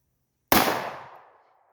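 A single loud, close gunshot from a Draco or Glock at an outdoor shooting range cracks sharply, then its echo decays over about a second.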